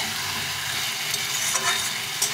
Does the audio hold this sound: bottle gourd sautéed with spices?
yes